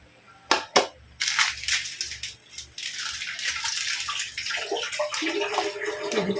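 Tap water runs while food is washed by hand, opening with two sharp knocks, then splashing and rinsing that swells into a steady loud stream.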